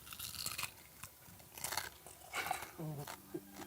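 Crunchy chewing and biting of a swallow bird's head, the skull cracking in several close, brittle crunches in a live animal market, with faint talk nearby.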